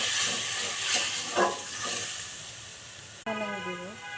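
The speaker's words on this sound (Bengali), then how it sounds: "রসুন বাটা দিয়ে ভালো করে পেঁয়াজের সাথে ভেজে নেবেন" Onions fry with garlic paste in a pan, giving a steady soft sizzle with a few stirring scrapes. A brief break comes near the end, then a tonal sound.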